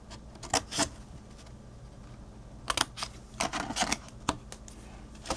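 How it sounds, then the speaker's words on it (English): Scissors snipping a paper gift box template for a slender wine bottle sleeve, heard as a few sharp, close cuts and paper rustles in short bursts with quiet pauses between. "For right now, we want to cut this little piece off here."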